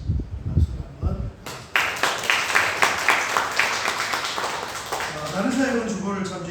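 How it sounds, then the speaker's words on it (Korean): A church congregation claps during a service in a short, lively burst of applause after a spoken announcement, with the clapping tapering as a voice resumes. "박수를 한번"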